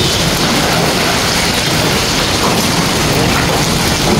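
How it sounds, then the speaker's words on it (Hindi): Hail falls hard outside during a storm in Peshawar, producing a loud, dense and steady rushing clatter that fills the whole stretch without any talk. "गाइस सही के ओले गिर रहे हैं।"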